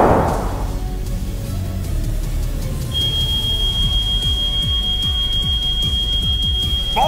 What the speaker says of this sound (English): Oh, there it is! The emergency alarm!